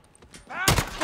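A single loud gunshot with a sharp blast from the Modern Warfare campaign, following a brief stretch of faint background noise and a voice-like tone, the report ringing on to the end.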